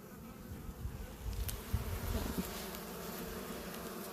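Honey bees buzz at an open hive during an inspection, a close, continuous drone with bees passing nearby and rising and falling in loudness.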